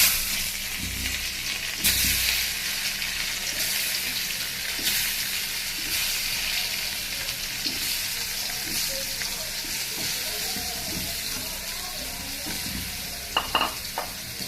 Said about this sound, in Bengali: কড়াইয়ে তেল দিয়ে দিয়েছি, তেল গরম হয়ে গিয়েছে। এবারে মাখানো গাজরটা দিয়ে দেব।